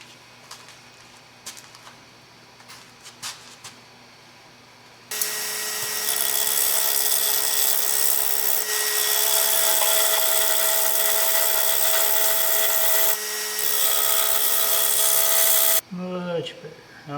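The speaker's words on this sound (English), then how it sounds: "and then we'll start sanding" Wooden bowl being sanded on a lathe, a loud, steady high whirring hiss that starts abruptly after quieter moments with faint voice and knocks, runs for about ten seconds, then cuts off as talking resumes.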